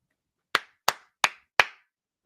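Four sharp, evenly spaced hand claps, close and crisp, each followed by a short decay, with silence before and after.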